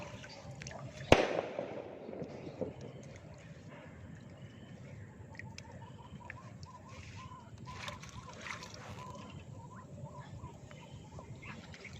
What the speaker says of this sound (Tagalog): Unang harvest kaya may fireworks.